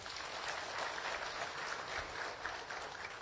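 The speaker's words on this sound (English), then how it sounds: "let's clap for them as well" An audience at a workplace safety and health conference claps steadily in a hall, a dense, even wash of applause heard from some distance at fairly low level.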